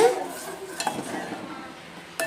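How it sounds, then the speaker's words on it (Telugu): A spoon scrapes and clinks against a steel pot while milk is stirred slowly for khoa, with soft irregular scraping and a couple of sharp metallic knocks, fairly quiet. "నేను ఇంకా దగ్గరుండి ఇలాగే కలుపుకుంటున్నాను"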